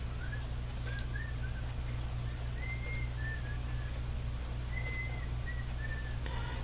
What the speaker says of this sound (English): It's my son that you're hearing whistling if the camera is picking it up